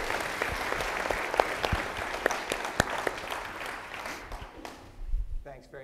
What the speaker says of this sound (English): please join me with a warm round of applause for Steve Hadley and his team